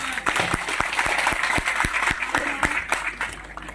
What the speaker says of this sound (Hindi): तो आप चाहते हैं बदलना तो जोरदार ताली बजाओ